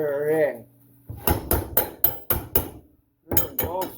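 A hammer knocks a burr out of a 1933 Plymouth coupe part: roughly six sharp metallic strikes in an uneven rhythm, close and loud. Someone talks before and after the blows.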